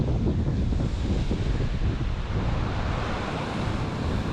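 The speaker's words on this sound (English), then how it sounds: "Whoa, this is a monstrous wave coming right now" Large waves on the wild North Sea coast in Scotland make a continuous heavy roar of surf, loud and steady, mixed with strong wind buffeting the microphone, with no voices.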